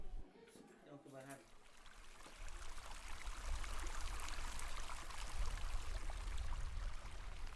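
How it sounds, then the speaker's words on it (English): Mountain stream high on Chimborazo, Ecuador, gurgling and rushing in a steady wash of water noise that swells after a quiet opening with faint breathy sounds. "the happy gurgling of Chimborazo stream"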